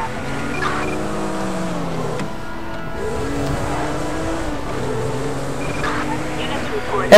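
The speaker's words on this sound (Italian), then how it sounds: "Prendiamo la macchina e scappiamo." A car in the video game GTA 5 driving away, a steady engine drone with rising and falling revs throughout, while someone talks over it.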